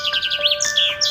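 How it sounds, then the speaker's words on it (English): An eagle's high, chirping call repeats in quick bursts over a steady musical tone, close and fairly loud. "Eagle,"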